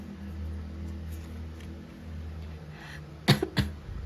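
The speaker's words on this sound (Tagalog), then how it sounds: "Kung napapansin nyo, inuubo ko ngayon" Two sharp coughs close together near the end, loud and close, after a stretch of quiet background hum.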